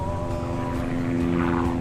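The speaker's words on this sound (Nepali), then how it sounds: "हेलिकप्टर पनि आइरहेछ" A helicopter flies over an outdoor tourist wetland area with a steady, droning engine and rotor hum that holds loud and constant throughout, with no talk.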